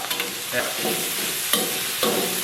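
Sliced lamb with scallion and garlic sizzles in a wok, a dense close frying hiss punctuated by a few quick spatula scrapes and clacks, with no voices.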